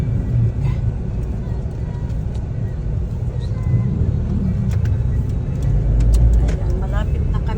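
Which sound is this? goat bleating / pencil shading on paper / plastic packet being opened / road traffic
road traffic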